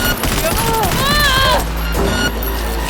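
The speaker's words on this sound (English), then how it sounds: "Heard shots." Gunfire in the video game Cyberpunk 2077: a dense fusillade of rapid shots under a synthetic tonal whine, loud and sustained through the moment, with a voice briefly in the mix.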